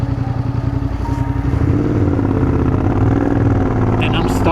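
A motorcycle rides along a road toward Mammoth Pool, its engine droning steadily and close up in third gear, with a rider talking over the continuous hum.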